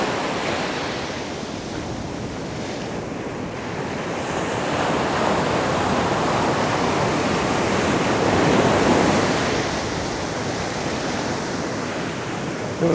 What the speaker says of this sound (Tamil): அங்கே பாருங்க இந்த அலையெல்லாம் நல்லா அங்கெல்லாம் எப்படி வருது பாருங்க அலை.